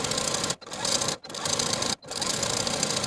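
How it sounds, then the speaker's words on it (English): A sewing machine topstitches the folded hem of a bias-cut jacket with a fast, even whirr, broken by three brief pauses before the stitching picks up again. "top stitching that folded edge in place from one side all the way to the other"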